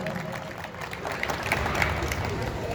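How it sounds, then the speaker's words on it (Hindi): An audience at a Hindi comedy poetry gathering in a theatre applauds, a steady wash of clapping from a crowd, moderately loud and continuous. "एक बार और ताली बजाइए"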